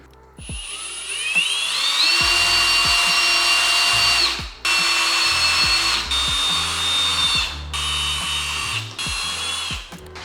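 A high-pitched power drill whines loudly in several long bursts, stopping and restarting, drilling bolt holes to fit a large wing on a Porsche Panamera, close by with faint clatter underneath.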